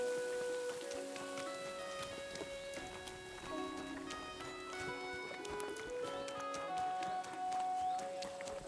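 Steady rain patters down throughout in Kingdom Come: Deliverance II, with a light melodic musical backdrop and occasional hoof-like clops mixed in.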